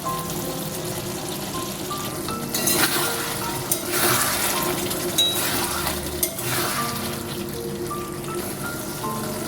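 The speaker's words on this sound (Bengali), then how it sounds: "কচুটা এবার মশলার সাথে কিছুক্ষণ কষিয়ে নেব।" Taro root being sautéed with spices and a little sugar in a pan, a steady close sizzle with a few louder scraping stirs of a utensil against the pan.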